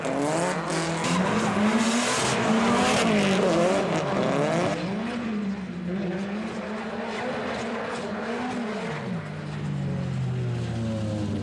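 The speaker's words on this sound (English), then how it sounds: "Jack Shannon in his SR22 powered 180SX." A Nissan 180SX drift car with an SR22 engine competes at a Driftfest round in Fermoy, its engine revving loudly and rising and falling in pitch as it slides, with tyre squeal throughout.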